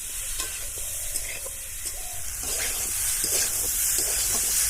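Raw mango pieces fry in oil in a pan. A dense, steady hiss of sizzling swells slightly louder toward the end, with soft stirring scrapes underneath.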